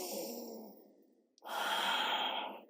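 Deep breathing during prenatal yoga: a long, soft exhale fades to near silence, then a fuller, louder breath follows, close and calm with no talk.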